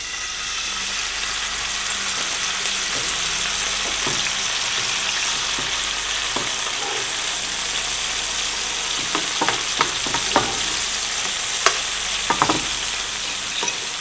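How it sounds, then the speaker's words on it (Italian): Meat browns in a pan with a steady, close sizzle of frying, joined near the end by sharp clicks and scrapes as the pieces are stirred and turned. "Li facciamo rosolare ancora per qualche istante."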